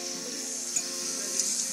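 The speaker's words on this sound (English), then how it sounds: "you're washing dishes" Dishes are washed at a sink under a steady hiss of running water, with a couple of faint clinks rising briefly above the flow.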